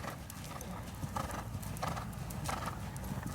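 A horse trotting in an arena during riding schooling, steady rhythmic hoofbeats in a quick two-beat pattern, fairly faint and moderately close, with a brief whinny and no clear talking.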